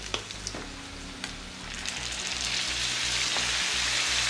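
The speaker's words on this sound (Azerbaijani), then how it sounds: "Bunları da yaxşı-yaxşı bu cür qovuracam." Chopped vegetables and red pepper frying in a pan for a meat pie filling, a few stirring knocks at first, then a steady close sizzle that grows louder.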